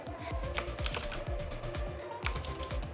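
Steady run of keystrokes on a computer keyboard during a Saturday morning stream, close and continuous with clustered clicks throughout, no speech.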